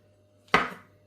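A kitchen knife chops through mushrooms for a curry in one sharp, close thunk against the board that decays quickly.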